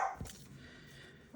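Puppies letting out a couple of short, sharp barks, one near the start and another at the end, over quiet room noise.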